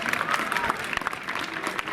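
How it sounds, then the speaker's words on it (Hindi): Crowd applause at an award ceremony in Gorakhpur, a loud, close burst of many people clapping with dense, uneven slaps that swell toward the end. "इनके लिए ताली बजाइए।"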